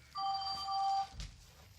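A home telephone rings once, a clear electronic bell-like trill lasting under a second, fairly close in a quiet room, followed by a brief soft bump.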